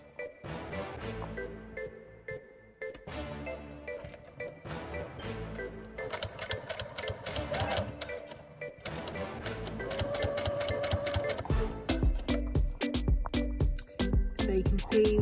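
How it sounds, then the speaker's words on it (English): Sewing machine stitching bag handles down, running in rapid mechanical bursts with short pauses between runs and growing louder toward the end, with no talk over it. "And then now we're going to stitch it all down."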